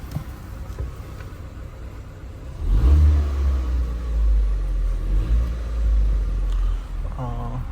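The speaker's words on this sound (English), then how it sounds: "Let me rev it." A Ford Fiesta engine with 86,000 miles, from a wrecked car under rebuild, idles low, then revs hard at about three seconds into a loud, sustained rumble that dips briefly near the end.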